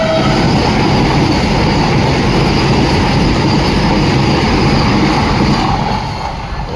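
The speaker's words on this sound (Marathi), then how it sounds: "समोर बघू शकता ट्रेन ते सुंदरपैकी एकदम वंदे भारत ट्रेन बघू शकता" A Vande Bharat train races past at high speed, a loud, dense roar of wheels and rushing air that fills the whole stretch and eases only slightly at the very end.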